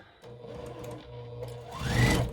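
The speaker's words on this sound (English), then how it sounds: "And then I will go ahead and sew." A sewing machine stitching pieces of a quilt block, a steady near whir running through the clip and speeding up toward the end, with no talk.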